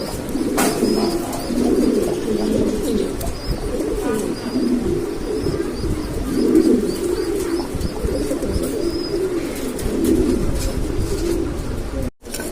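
Black and blue Lahori pigeons, a breeding pair, coo in low rolling murmurs that continue steadily, close by, with faint chirps above.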